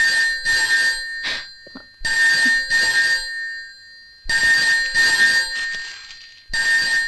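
A telephone rings loudly and close by, in repeated bursts of trilling bells separated by short silent pauses.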